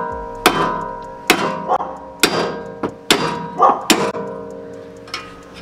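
Heavy hammer blows smacking a Ford Mustang suspension part, about seven loud metallic whacks at uneven intervals with ringing decay, close up in a garage.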